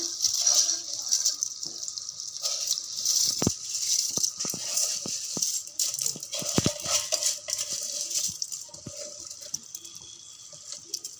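Washed rice and milk are tipped into a cooking pot for ghee rice, producing close watery pouring and sloshing with light rattling grains and a few sharp knocks against the pot.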